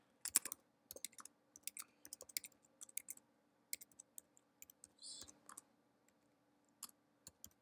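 Close, quiet typing of a code comment on a computer keyboard, with irregular bursts of light key clicks and brief pauses between them.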